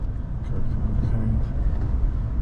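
A car comes up from behind on a mountain road, heard as a low, steady rumble of engine and tyres from inside another vehicle, with brief talk over it.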